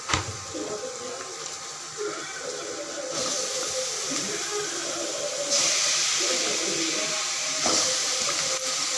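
Chicken drops into a hot pan with a loud hiss that swells into a steady, broad sizzle and stays strong to the end, with brief bursts of stirring.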